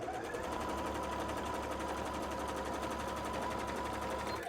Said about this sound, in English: I might just quickly sew up here too